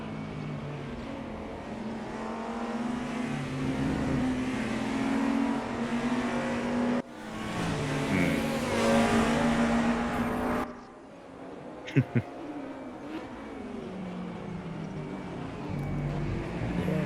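A 1992 DTM touring car at Circuit Zolder in the RaceRoom racing game holds a loud, steady engine drone that shifts pitch through gear changes, cuts out briefly near the middle, then picks up again, with no talk.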